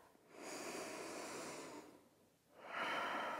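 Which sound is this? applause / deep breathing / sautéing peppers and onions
deep breathing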